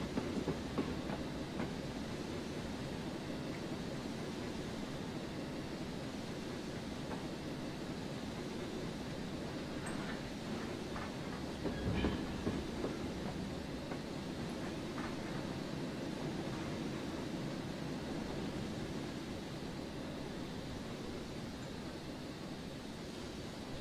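Train rolling along rails in the Train Simulator 2015 game on the Great North of Scotland Railway, a steady continuous rumble with faint rhythmic clatter, a brief louder swell around midway, no talking.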